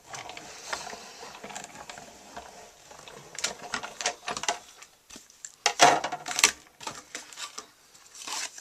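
A Big Shot embossing machine hand-cranked to roll stacked plates through a card embossing folder, heard as faint, uneven mechanical clicking and ratcheting that grows busier and louder toward the end.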